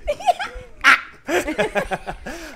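A dog barks several times in quick bursts, close and fairly loud, mixed with people laughing and chattering around it.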